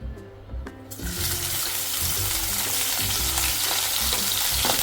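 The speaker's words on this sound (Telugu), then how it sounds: "ఆయిల్ అనేది హీట్ అయ్యాక మనం ఇందాక వాష్ చేసుకున్న ఎండు చేపలని ఇందులో వేసి వేయించాలి" Washed dried fish hits hot oil and breaks into a loud, dense, steady sizzle that carries on unbroken after a brief quieter opening, with no voices present.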